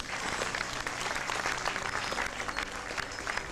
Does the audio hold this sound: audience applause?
yes